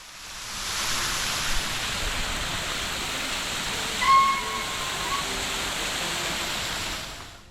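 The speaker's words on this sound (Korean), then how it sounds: "이 폭포의 이름은 남이 백년 하늘폭포인데요." On Nami Island, a waterfall built from an old water tank pours in a steady, even rush of falling water, heard from a moderate distance and fairly soft, with no voices.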